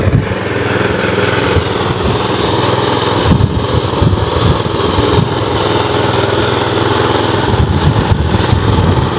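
A vibrating potato digger runs at steady full load while digging, its engine drone loud, close and continuous with a constant rumbling, rattling texture throughout.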